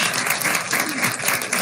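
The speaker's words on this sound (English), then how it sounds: "So if we could give them a round of applause" A room full of people at a school board of education meeting claps in steady, dense applause that stays loud and unbroken throughout.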